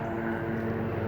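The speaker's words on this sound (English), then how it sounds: "that's a helicopter flying over" Steady low droning engine hum with a constant tonal buzz from a helicopter passing overhead at a distance, with no talking.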